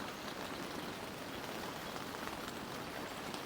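Heavy rain falls on an air tent during car camping, a dense, even patter and hiss close overhead that continues without pause, with no voices.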